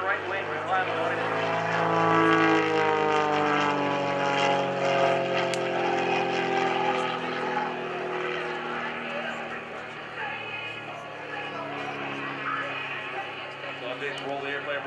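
Droning engine of an aerobatic propeller airplane performing vertical rolls at an airshow, swelling and fading as the plane maneuvers, running steadily throughout with a voice talking over it.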